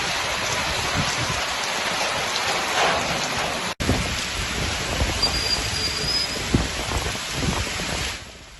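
Heavy monsoon rain in Kerala pours steadily and densely, a loud continuous hiss of drops striking surfaces with a brief cut partway through and no voices.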